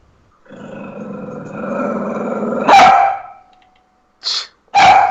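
Chewie the dog barks and growls loudly close by, a sustained rough growl building into a sharp bark, then two more short barks after a brief pause; no one speaks.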